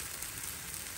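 A pancake fries in a hot pan, making a steady, loud, close sizzle that continues without a break.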